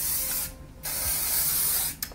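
Hair spray from an aerosol can hisses onto curled hair in two close bursts, a short one then a longer one, followed by a brief final puff.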